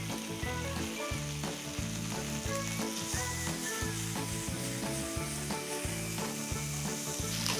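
Onions fry with bacon and garlic in a pan, a steady close sizzle under a continuous musical background, with no speech.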